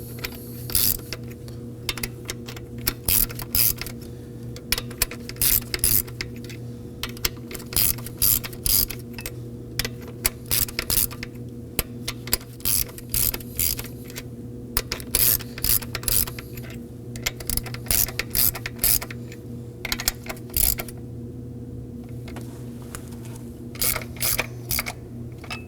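A ratchet clicks in rapid, uneven bursts while tightening the bolts on a high-pressure fuel pump of a 2.4L four-cylinder Kia Sorento, sounding close and steady over a low hum, with no talk.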